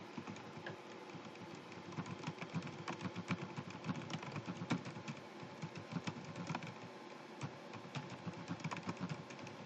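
Fast, continuous clicking of a computer keyboard as a book title is typed, close and fairly quiet, an uneven rhythm of rapid keystrokes with no pauses for talk.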